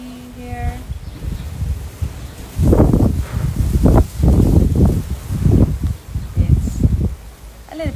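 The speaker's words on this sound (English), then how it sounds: "It's a little bit windy." Wind blows outdoors on a summer day in southern Spain, buffeting the microphone in loud, low rumbling gusts that rise and fall over several seconds.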